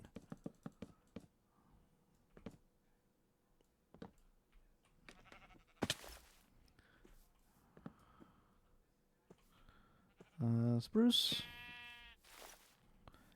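Sheep bleat in a Minecraft-style island build, a couple of loud bleats near the end over sparse keyboard typing and clicks, with someone talking quietly at times.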